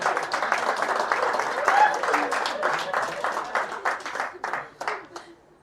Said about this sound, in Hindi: आप लोग ताली बजा दो